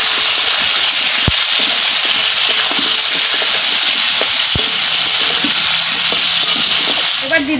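Ground cumin and coriander paste with green chilli, dry chilli and ginger pastes frying in a pan, a loud continuous hiss of sizzling oil with occasional clinks of stirring, close and alone.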